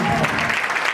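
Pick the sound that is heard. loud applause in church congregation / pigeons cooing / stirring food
loud applause in church congregation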